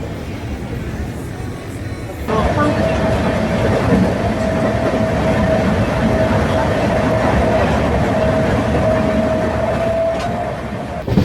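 A passenger train pulls away again near Zahirabad after a stop, starting with an abrupt rise into a loud, continuous rumble of wheels on rails and a thin sustained whine, heard from inside the coach.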